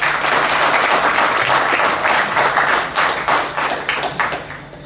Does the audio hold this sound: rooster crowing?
no